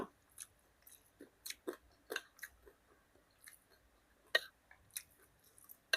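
Crispy fried pork belly, a few days old, being chewed up close: a string of soft crunchy bites and moist mastication clicks in an irregular rhythm, quiet overall with a couple of sharper crunches, no talking.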